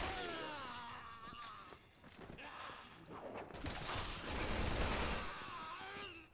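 Gunfire from the video game Resident Evil 6 crackles in bursts alongside game effects, a rapid volley swelling loudest toward the end while a voice talks intermittently over it.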